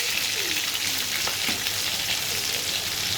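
Chicken pieces sizzling steadily in hot oil in a pan for chicken fry, a close, loud, continuous crackle with faint scraping as the pieces are turned over.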